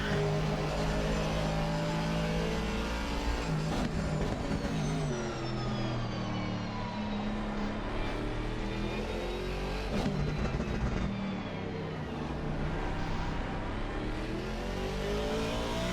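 Ferrari and Aston Martin race cars roar continuously through an endurance race at Silverstone, engines loud and close with rising and falling pitch as they accelerate and pass.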